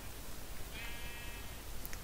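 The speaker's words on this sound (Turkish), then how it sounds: "Ya burası koyun cenneti ya." A sheep bleats in Minecraft, a brief wavering cry at moderate volume over a steady background hiss, with no talking.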